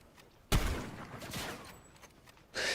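Sniper rifle gunfire in a video game: a loud, sharp shot with a ringing tail, then a second burst about two seconds later, with no voices over it.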